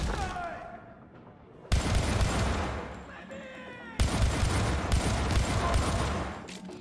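Sustained rapid gunfire in the 2012 shooter game Syndicate, loud, dense bursts of automatic fire with two sharp onsets, continuing almost without pause, no speech over it.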